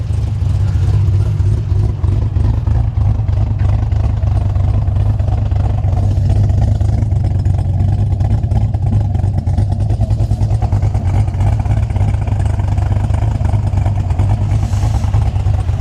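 A Camaro SS race car with a performance camshaft runs on a dyno, its engine loud and close with a choppy, lumpy idle and rough revving held throughout, no voices.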